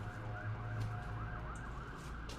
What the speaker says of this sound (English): Dude, there's some crazy sirens going on.